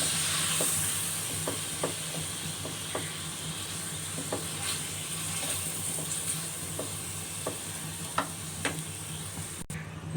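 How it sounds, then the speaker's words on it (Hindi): Tomato and masala fry in a pan for mutton paya, a steady hiss of sizzling broken by soft scraping stirs repeating every second or so, moderately close and without speech. "अब हम इसको 5 मिनट सही से भूनेंगे।"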